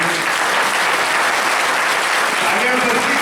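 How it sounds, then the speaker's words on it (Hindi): Loud, sustained applause from an audience at a devotional bhajan gathering, dense clapping filling the whole stretch without a break. "एक जोरदार तालियां बजा के"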